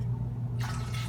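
Water pours into a container for an orange juice and Shakeology drink, a short trickling splash that starts partway through over a low steady hum.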